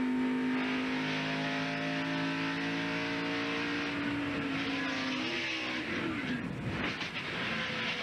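In-car roar of Ricky Craven's No. 29 stock car during the 1997 Transouth Financial 400, a loud sustained engine drone whose pitch holds steady and then shifts and breaks up near the end, with no talk.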